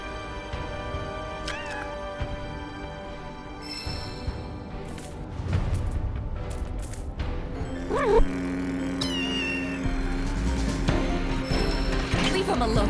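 A cat meows repeatedly in Final Fantasy VII Rebirth while being fed cat food, the cries rising and wavering over steady game music, with a brief louder swell partway through.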